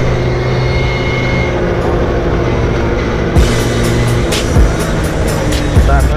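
Scooter ride on a road, with a steady loud engine drone and rushing wind throughout, a few brief bumps near the end.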